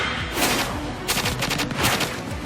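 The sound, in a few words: gunfire in Assassination Classroom anime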